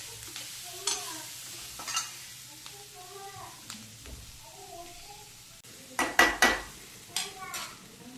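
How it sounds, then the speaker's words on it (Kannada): Paneer fries in a pan for a homemade paneer pizza, a quiet sizzle broken by spatula scrapes and metallic clinks against the pan, with a louder burst of stirring clatter toward the end and some talk. "ಸ್ವಲ್ಪ ಫ್ರೈ ಆಗಬೇಕಿದು. ಪನ್ನೀರೆಲ್ಲ ಸ್ವಲ್ಪ ಬೇಯಬೇಕು."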